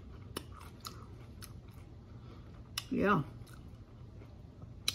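Pickled asparagus being chewed up close: a short, moist crunching bite stands out amid faint clicks and mouth sounds, with someone talking during the clip.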